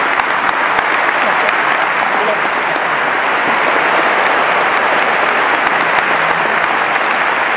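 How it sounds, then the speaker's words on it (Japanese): A stadium crowd applauds steadily to send off a retiring J.League J1 referee, Masaaki Toma, from the pitch after a match, a loud, dense and continuous wash of clapping throughout. "今日含めて拍手でこのゲームの主審のピッチから送り出します。"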